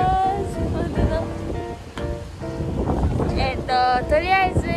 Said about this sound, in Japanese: こんな感じで強風でございます。